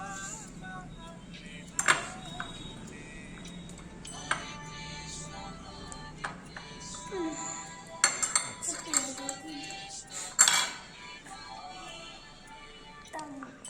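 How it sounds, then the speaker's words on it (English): A knife working butter across bread for a veg sandwich, soft scraping broken by several sharp clinks of cutlery against a plate and dishes, with occasional quiet talk in the background. "Now take the bread. Add some butter in it."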